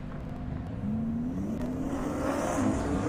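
A half-mile drag racing car at an airstrip event roars steadily and loudly, its engine pitch climbing as it accelerates through a high-speed pass, with no voices over it.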